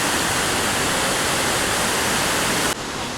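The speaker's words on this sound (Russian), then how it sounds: "Горная речка." A mountain stream near Lake Como in Italy rushes in a dense, steady roar of flowing water, loud and close, before dropping suddenly to a slightly quieter level near the end.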